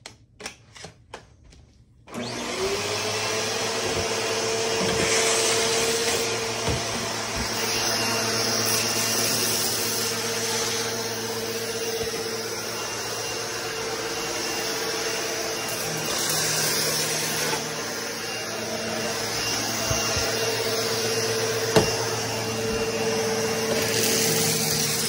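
After a brief quiet start, a Shark vacuum cleaner switches on and runs with a steady motor whine and airflow roar, close and continuous.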